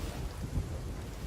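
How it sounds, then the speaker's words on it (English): Lightning strike on a ship during a storm at sea in the Sea of Thieves video game, a dull low rumble under steady roaring wind and rain, with no talking. "I think lightning just actually hit our boat"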